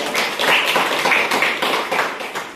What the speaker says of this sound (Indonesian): kasih tepuk tangan kepada Zeni